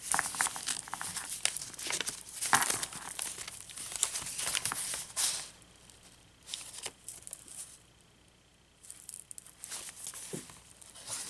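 Leftover paper for a journal is handled close up, with bursts of crinkling and rustling that come and go, louder at first and then quieter with short pauses.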